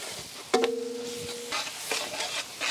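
Garlic, green chilli and capsicum are stirred in a pan with a spatula, giving scraping strokes over a low sizzle; a long electronic beep sounds partway through.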